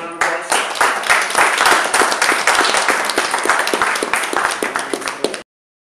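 Audience applause at a sword fighting event, a dense sustained wash of clapping that runs steadily for about five seconds before cutting off abruptly.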